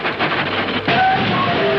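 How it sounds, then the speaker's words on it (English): A cartoon ghost train rumbles closer with a chugging, clattering roar, then shrill whistle-like tones rise over the din in the final second, loud and close. "What? A real ghost train."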